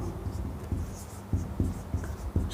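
Chalk or marker writing on a board during a class-10 maths lesson, with several distinct scratchy taps and strokes in an uneven rhythm, close and moderately loud.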